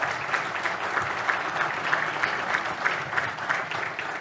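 An audience at an evening award ceremony for local prize winners claps steadily, a dense, even patter of many hands from a medium-sized crowd lasting a few seconds without cheering.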